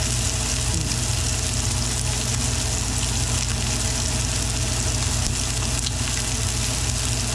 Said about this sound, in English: I'm setting the steak into the pan, and right now I'm just gonna sear it